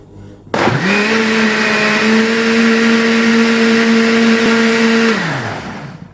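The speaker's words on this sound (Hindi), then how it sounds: "इसे अब कवर कर दूँगी और इसे ब्लेंड कर देंगे।" A blender whirs steadily for about five seconds, blending an Oreo milkshake with vanilla ice cream, starting abruptly, holding a loud even motor tone, then winding down at the end.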